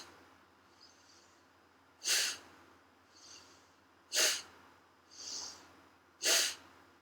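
Forceful nasal exhalations during a yoga practice, three sharp bursts spaced about two seconds apart, close and alone, with softer breaths in between.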